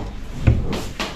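A drawer inside a wooden closet slides open with a low thump followed by a couple of light scraping knocks, close by and brief.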